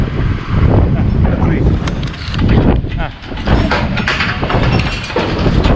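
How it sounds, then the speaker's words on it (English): Blustery wind gusting hard outdoors, a loud, constant roar and buffeting across the microphone that swells and dips briefly, with a voice speaking under it. "There it gets blustery."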